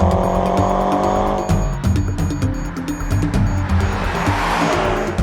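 BMW M6 Gran Coupe with a 575-horsepower engine accelerating hard, a strong rising engine note with gear changes, loud and close from the car, with no talking.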